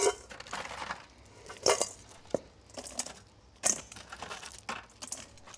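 Crispy Korean fried chicken wings dropped and tossed in a bowl, giving several sharp crunchy clatters and scrapes spaced over a few seconds, close and fairly quiet with no talk.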